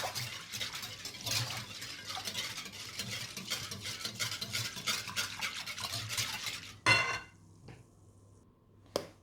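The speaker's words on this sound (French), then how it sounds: "Il faut bien la mélanger avec le lait." Cod fritter batter is mixed with milk in a bowl, giving a rapid, steady wet whisking that fills most of the stretch, then stops with a clink and a brief clatter, close and fairly quiet.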